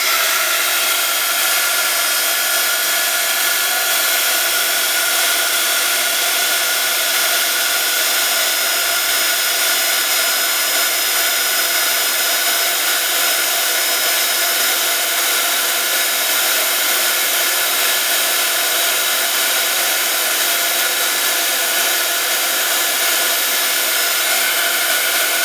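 A hot-air heat tool runs steadily and loudly throughout, setting Melt-It material on homemade hanging Christmas decorations with a constant broadband whoosh and fan whine.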